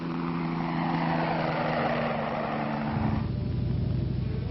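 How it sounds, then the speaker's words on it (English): Low, fairly slow-flying helicopter crop dusting, with a steady droning engine and rotor hum that shifts partway through to a deeper, pulsing throb, fairly loud and continuous with no talk. "The low and fairly slow-flying helicopter can put the spray where it is needed in a hurry."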